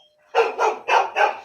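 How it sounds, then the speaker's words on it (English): A dog barks four times in quick, evenly spaced succession, loud and close, after a brief quiet moment with no talking. "Excuse my dog."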